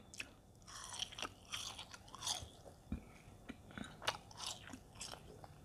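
Close, crunchy chewing and biting of latiao, a spicy mala-flavoured Chinese gluten snack, in steady irregular bites over about five seconds with no talking.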